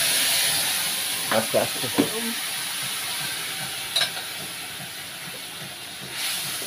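Lentils tipped into hot oil spiced with cumin seeds, bay leaf, dried red chilli and ground cumin hiss and sizzle loudly and continuously with a few stirring clatters, while a voice speaks briefly.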